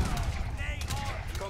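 Cannons firing during an Age of Empires III battle, a rapid cluster of sharp booms and crackling impacts heard fairly faint behind a speaking voice.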